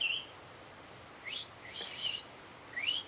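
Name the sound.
man whistling imitating bird calls on a mountain trail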